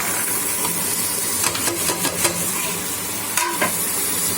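Paneer and peas fry in a spiced masala in a kadai with a steady sizzle, while a utensil stirs and scrapes in short bursts partway through and again near the end.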